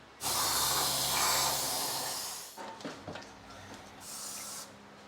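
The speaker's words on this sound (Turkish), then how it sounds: "Bir beze balt spreyini sıkıp keçi çevresini bezle silmemiz daha iyi olur." A loud aerosol spray of brake cleaner hisses onto a cloth for about two seconds, followed by soft rustling of the cloth and a second short spray burst, during a clutch replacement on a Dacia Duster 4x4.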